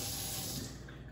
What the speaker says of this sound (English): We don't want to put too much hot water in here.